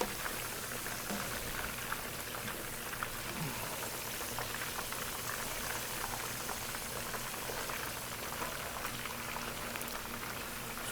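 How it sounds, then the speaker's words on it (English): Duck with the feet left on deep-fries skin-side down in hot oil, giving a steady, crackling sizzle that holds evenly at moderate volume throughout with no voices. "So we're deep frying us some duck right now."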